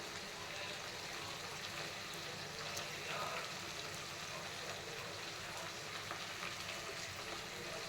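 Paneer masala with cinnamon powder, coriander leaves and salt is mixed and fries in a pan, a soft, steady sizzle with faint stirring throughout.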